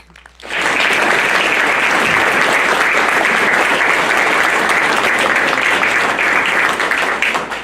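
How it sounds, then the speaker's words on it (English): Sustained applause from an audience at a school board meeting honoring a student award, starting abruptly after a brief quiet moment and holding steady and loud for several seconds. "That one gets a clap."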